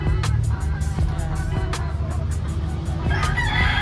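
Gilmore chickens in a backyard breeding pen, with a rooster crowing close by among clucks and scattered calls, while someone talks over the birds.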